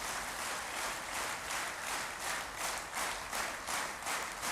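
Rhythmic group hand clapping at a spiritual gathering, a steady even beat of many hands clapping together, moderately loud with no talk over it.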